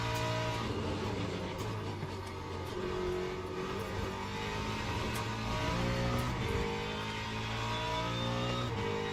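In Le Mans Ultimate at Sebring, LMGT3 and LMP2 race cars run close together, engines droning loudly and continuously as revs rise and fall with gear changes and cars sweep past.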